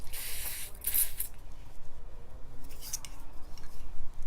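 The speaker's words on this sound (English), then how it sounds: "So I'm going to use my Caudalie grape water, and I'm going to just spray" Caudalie grape water facial mist sprayed in two quick, close hissing bursts, then a quieter stretch of faint handling noise.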